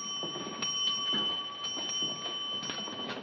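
A ship's bell rings in a 1942 film scene, several metallic strikes with a sustained ringing tone carrying between them, against faint room noise and no talk.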